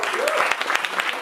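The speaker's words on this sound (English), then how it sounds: "So, some motivational applause here." A hackathon award ceremony crowd at DevFest Berlin 2015 gives a team a dense, steady burst of applause, with a rising whistle-like voice cutting through the clapping.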